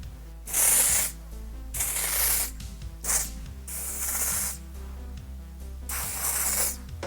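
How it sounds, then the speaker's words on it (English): Several hissing bursts of a spray foundation pump aimed at the face, each lasting about half a second to a second, close up with short pauses between them. "I'm just gonna spray this on my face because it's kind of like a spray"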